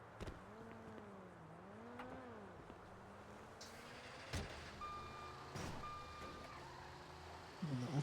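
A truck reversing in a yard, with steady intermittent reversing beeps over low engine rumble and a few sharp knocks, fairly close.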